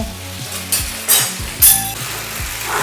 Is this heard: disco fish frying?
yes